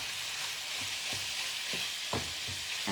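Beef and green beans frying in garlic herb butter give off a loud, continuous sizzle, with soft scraping knocks from stirring at irregular intervals and no voices.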